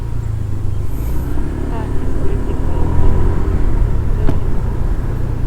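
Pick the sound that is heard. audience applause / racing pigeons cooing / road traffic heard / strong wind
road traffic heard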